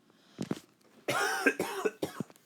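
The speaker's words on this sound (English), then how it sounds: "Sorry, just ignore that. I was coughing." A few sharp coughs close by: two short ones, a pause, then a rough burst of several harsh coughs in a row.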